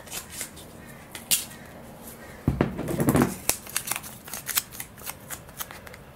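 Packing tape pulled off a roll and torn during assembly of a Samba Pike Precision 2 F3F/F3B glider fuselage: a sharp rasping rip builds midway, with scattered clicks and crinkles around it, close and alone.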